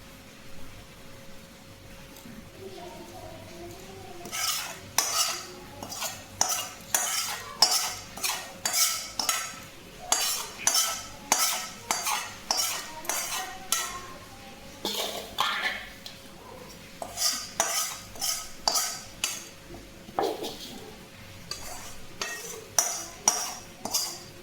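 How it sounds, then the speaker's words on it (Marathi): A spoon stirs mango pickle mixed with hot tempering in a metal pot, giving rhythmic, close scraping and clinking strokes that repeat steadily throughout with short pauses. "आता हे सर्व मिश्रण एकत्र करून घ्यायचे आणि त्यामध्ये मग या फोडी आहेत आंब्याच्या त्या मिक्स करून घ्यायच्यात"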